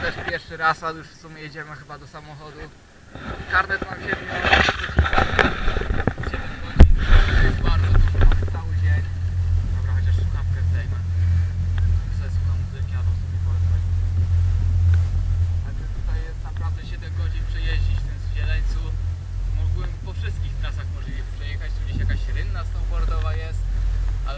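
A ski lift at Zieleniec hums with a steady low mechanical drone and rumble, joined by wind noise, running continuously beneath someone talking nearby.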